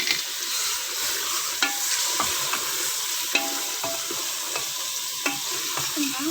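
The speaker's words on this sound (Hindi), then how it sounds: "ये देखें हम इसकी अब अच्छी तरह बुनाई कर रहे हैं।" Beef chunks fry with onions in a pot for biryani, a steady hiss of sizzling broken by repeated scraping clicks of a spoon stirring the meat, close and even with no talk.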